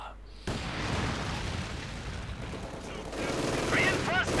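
Rattling bursts of MG42 machine gun fire in Company of Heroes 2, mixed with battle booms and explosions in a busy game soundscape, with a voice faintly underneath.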